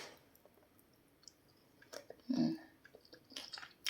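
Close, quiet chewing of japchae glass noodles: soft wet squishes and small clicks, with a louder burst of mouth sounds midway and more chewing after.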